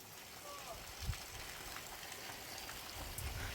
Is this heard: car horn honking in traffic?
no